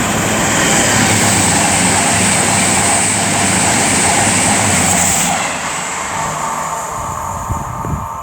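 Avanti West Coast Class 221 diesel units passing at Tamworth, a loud continuous rail roar and rumble that eases after several seconds, ending with faint clunks, no talking.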